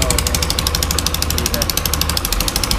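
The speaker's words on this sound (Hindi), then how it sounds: "ये आप देख सकते हैं इंजन का साउंड कैसा हो गया" A Yamaha YBR 125 motorcycle engine runs steadily up close with a rough, rapid knocking rhythm, heard during work on its sensor after a full engine restoration.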